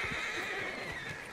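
A horse neighs and whinnies throughout, a steady, fairly loud call with faint hoof clops underneath and no speech.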